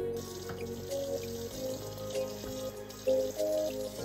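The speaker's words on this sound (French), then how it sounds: "Ouvrez d'abord les robinets et mouillez-vous les mains avec de l'eau tiède." A tap runs in a steady stream into a sink while hands are wetted with lukewarm water for handwashing, with soft splashing under a faint background tone.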